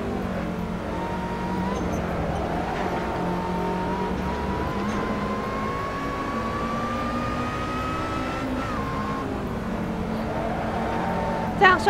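Race car engines in Assetto Corsa, a steady high engine drone rising in pitch as the car accelerates through a lap, with commentary talking over it.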